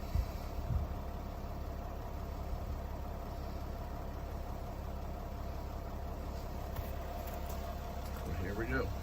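A Mercedes Sprinter diesel engine runs at raised RPM during a diesel particulate filter regeneration, giving a steady, unbroken low rumble and drone for the whole stretch with no clear pauses.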